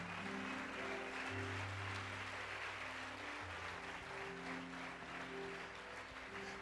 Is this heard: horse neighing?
no